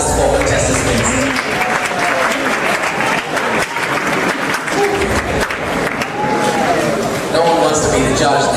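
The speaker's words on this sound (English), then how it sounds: "another round of applause to our last 4 contestants" A live audience at an innovation competition applauds its final four contestants, continuous loud clapping with a host's voice heard over it.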